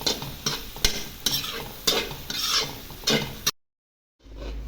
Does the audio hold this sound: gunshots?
no